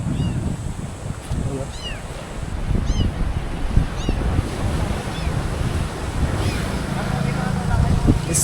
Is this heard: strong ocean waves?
yes